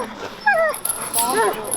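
A young male Yakutian Laika at a dog show gives two short, rising-and-falling whimpers close by, with faint crowd noise behind.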